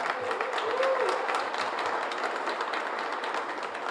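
Audience applause at a city portrait unveiling ceremony, a steady wash of clapping from a seated crowd, moderately loud and continuous.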